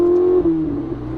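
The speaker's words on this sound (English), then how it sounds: "There's the exhaust." A 2018 Ferrari 488 Spider's exhaust revs, heard from inside the open-top car as a loud engine tone that holds steady, then dips and fades over about a second.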